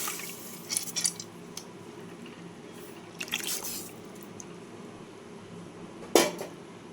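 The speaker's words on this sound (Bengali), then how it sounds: "এরপর এখানে দিয়ে দেবো এই মুসুর ডালগুলো।" Red lentils poured into water in a pan make short, soft pattering and splashing bursts, with a sharper splash near the end over a quiet background, and no talking.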